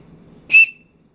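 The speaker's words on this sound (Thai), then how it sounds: "เป่าดังๆ คนร้ายได้ยินก็หนี พลเมืองดี เยอะแยะไปได้ยินเสียงนกหวีดรู้กันว่า มันมีอันตรายเกิดขึ้น" A safety whistle gives one sharp, piercing blast lasting about a quarter second, loud and close, against near silence.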